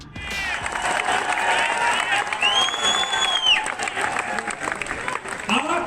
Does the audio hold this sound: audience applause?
yes